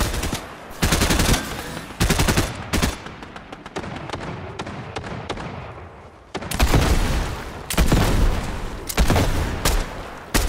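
Gunfire in Fortnite from an NPC shooting at a player's builds: loud, close bursts of rapid automatic shots, with stretches of dense firing and brief pauses between volleys.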